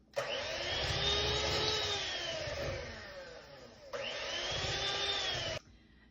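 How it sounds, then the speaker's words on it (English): An electric mixer runs on low speed through a very thick pound-cake-style batter, a steady loud motor whir lasting several seconds, briefly dipping, then resuming before stopping abruptly. "Now we're gonna mix this on a low speed, and it's probably just gonna take about a minute."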